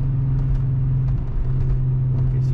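A car accelerating while changing lanes on a New Jersey highway, heard from inside as a loud, steady engine drone and road rumble with no speech.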